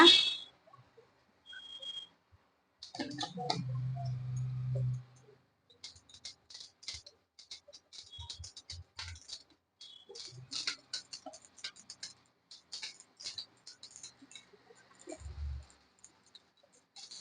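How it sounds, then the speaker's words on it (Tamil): Mustard seeds pop and crackle in hot oil in a home kitchen, with scattered sharp little ticks spreading into a steady irregular patter, quiet and close, plus a few brief clunks. "கடுகு பொரிஞ்சிச்சு."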